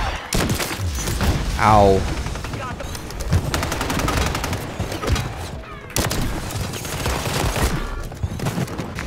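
Rapid automatic gunfire rattles close and loud in a tactical shooter game, with dense bursts and scattered shots over a bomb-planting round, while a player talks over the action.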